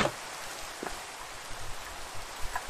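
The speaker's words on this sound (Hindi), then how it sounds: "और ये बारिश भी होने लगी है" Steady rainfall in the game Minecraft hisses as a soft, even wash with no voices, a few faint drop-like ticks rising briefly above the constant patter.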